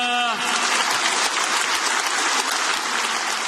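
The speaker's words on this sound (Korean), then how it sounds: "큰 영광의 박수 올려드립니다" A church congregation claps together in steady, dense applause, loud and close, with a brief trace of a voice at the very start before the clapping fills the room.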